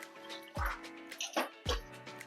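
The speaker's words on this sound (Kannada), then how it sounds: "ಈಗ ಕುಕ್ಕರ್ ಇಟ್ಟಿದ್ದೀನಿ, ಈಗ ನೀರು ಹಾಕೊಳ್ತಿದ್ದೀನಿ" Water goes into a pressure cooker in three separate splashy plops, each with a hollow, ringing drip, spaced about a second apart at close range.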